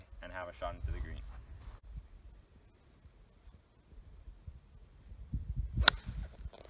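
A golf ball is struck with a 6-iron during a snowy round, and the single sharp, loud crack of impact comes near the end. A voice talks at the start, and the gap after it is mostly quiet.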